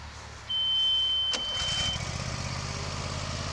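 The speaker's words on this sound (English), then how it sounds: "Cranks up, burns clean." A 2013 Morbark Boxer 320 compact machine's engine cranks briefly and catches, then settles into a steady low idle rumble, close by, with a thin high whine at the start.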